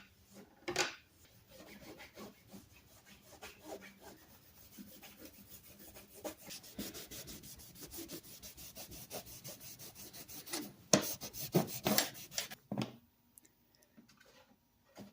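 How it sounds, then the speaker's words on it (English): Paste wax rubbed by hand onto the metal blade of a vintage Millers Falls saw, a steady run of soft rubbing and wiping strokes with occasional clicks and knocks, close and fairly quiet, with no talking. "Let's get some paste wax on this metal and protect it."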